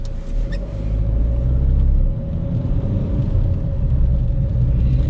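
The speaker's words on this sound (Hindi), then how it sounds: "So let's put it in drive and press the accelerator." A Mahindra XUV300 SUV pulls away in drive, with a steady low engine rumble and road noise close up and fairly loud throughout, easing slightly after the first couple of seconds.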